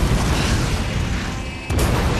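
Explosions in the Resident Evil 2 video game on PS4, a continuous loud, rumbling roar that dips briefly just before the end and then surges again, with no talking.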